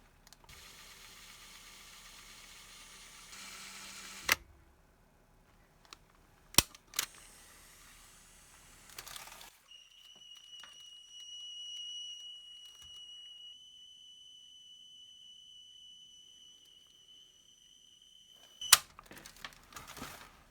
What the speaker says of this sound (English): adjust the speed using this 3000 Hertz tape